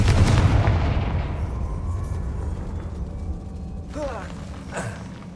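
A Confringo fire spell bursts in the Hogwarts Legacy video game, a loud booming blast up front that fades into a rumbling decay, followed by brief whooshing magical flares.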